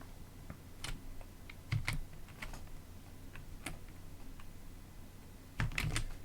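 A computer keyboard is typed on while answering a vocabulary drill, with scattered soft key clicks and two brief, louder clusters of keystrokes, close and fairly quiet over a faint background hum, no voices.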